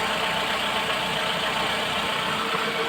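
A Toyota Camry with a freshly overhauled 1AZ engine idles steadily, a close, even hum with a faint rhythmic vibration and no voices.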